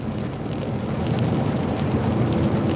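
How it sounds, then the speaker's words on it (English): Rain falls outside in Chattanooga, Tennessee, as a steady, moderately loud wash of patter and low rumble that holds without a break, with no talking. "it's rainy out here, right here in Chattanooga, Georgia, or Chattanooga, Tennessee."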